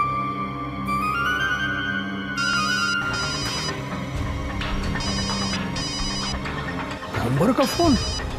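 A telephone rings in repeated bright bursts over steady background music and ambience, with a brief voice sound near the end.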